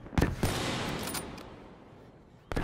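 Gunfire through a wall in Black Ops III: a few sharp shots cracking close together, a lingering noisy tail, then another loud burst at the end, with no talking.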